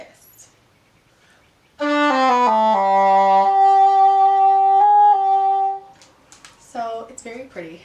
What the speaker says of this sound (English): And the English horn sounds like this.